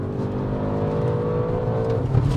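An 830hp C8 Audi RS6 accelerating hard, a loud steady engine roar with rising pitch heard from inside the car, continuous and close with no talking.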